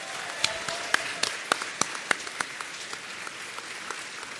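An audience at an inFamous 2 game panel at PAX 2010 applauds, with a dense wash of clapping and sharp individual claps standing out near the front.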